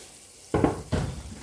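Browned ground beef, seasoned with pepper, sizzles in a pan with two bursts of stirring and scraping after a brief quiet moment, close and fairly loud.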